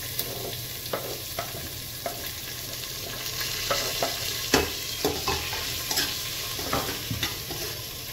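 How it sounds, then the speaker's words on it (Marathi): Finely chopped onion frying in oil in a pan for white matar and aloo chole, a steady close sizzle broken by irregular scraping stirs that grow busier and louder halfway through. "सो आता हांव कांदो घालतले, चॉप केलेले बारीक।"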